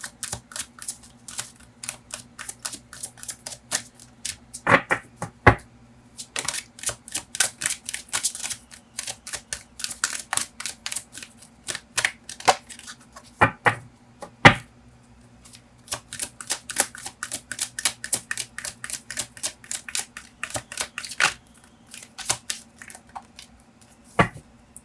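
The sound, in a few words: shuffling oracle cards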